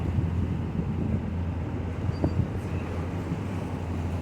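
Steady wind roaring across a sailboat at sea in the Atlantic Ocean, about 10 knots of wind at a boat speed near 7 knots, a constant broadband rush with low buffeting and no clear voices.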